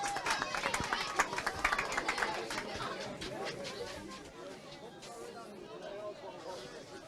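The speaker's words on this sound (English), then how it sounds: "Decent crowd in, I have to say, here in Hawkfield" Spectators chatter at a Kildare ladies' Gaelic football county final at Hawkfield, Leixlip against Eadestown, a steady babble of voices with a few louder calls and faint claps as the teams get ready.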